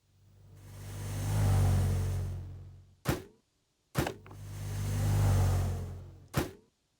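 A custom synthesized robotic sound effect plays twice, each time a low, droning tone that slowly rises and falls before cutting off into a pair of sharp, bright clicks, with silence between.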